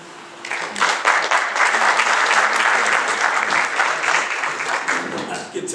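A crowd at a Republican candidates forum in Roanoke, Virginia claps after a speech, many hands at once in a full, sustained burst that swells quickly and holds strong before tapering slightly at the end.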